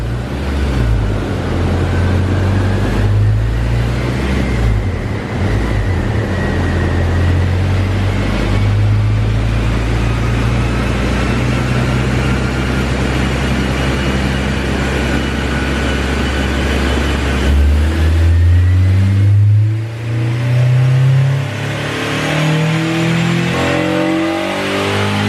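A Honda S2000 idles on a dyno to warm up under the broad, steady roar of a big cooling fan, then revs in a string of rising blips toward the end, loud and close.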